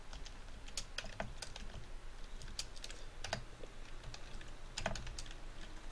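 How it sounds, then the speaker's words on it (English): Quick bursts of typing on a computer keyboard while entering web design code, the key clicks coming in uneven clusters, close and fairly quiet, with no talking. "we'll type in color"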